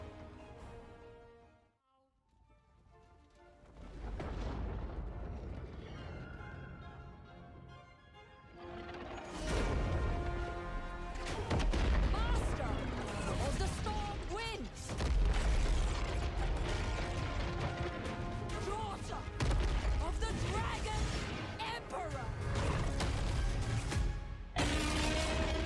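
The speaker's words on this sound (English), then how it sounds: "Kairos lays the smackdown with what appears to be the pink fire Tzeentch spell" A magical pink-fire spell from the Tzeentch faction is cast by the lord Kairos in a Warhammer 3 trailer, heard as loud, crashing, grinding blasts with mechanical clanks and shattering hits following a brief near-silent pause.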